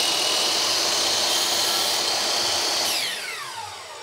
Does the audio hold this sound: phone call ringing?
no